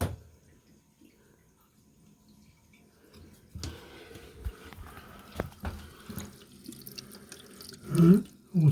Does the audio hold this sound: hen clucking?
no